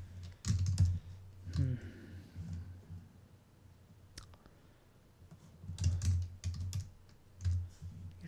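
Typing on a computer keyboard while setting up a MariaDB user account: scattered bursts of clicky keystrokes with quiet gaps, and a voice speaks briefly.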